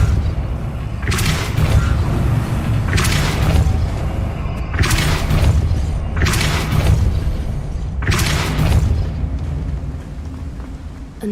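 A Depulso force spell cast in Hogwarts Legacy lands as heavy booming impacts, about five loud bursts spaced roughly every two seconds over a low rumbling background.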